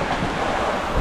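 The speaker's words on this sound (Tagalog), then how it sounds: "lakas po ng ihip ng hangin eh" Strong wind blows outdoors at a grilling spot, producing a loud, continuous roar and rushing buffeting against the microphone with no pauses.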